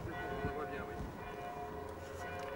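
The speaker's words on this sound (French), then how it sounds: "Les cloches, ça va pour le son, c'est pas un problème?" Church bells ring at Notre-Dame de Paris, a steady sustained ringing with overlapping tones heard from the street, under background voices and city noise.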